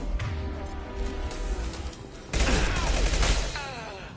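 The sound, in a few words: impact shot being fired in video game Mass Effect 2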